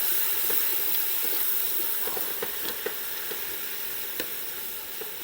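Lean ground beef cooks in a pot over medium-high heat, giving a steady, close sizzle with a faint hiss of steam and occasional soft pops and scrapes of stirring, with no talking.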